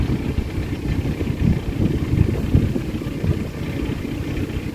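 Canal boat engine turning at low forward revs while cruising past moored boats, a close, steady low diesel throb with an uneven chugging pulse and no voices.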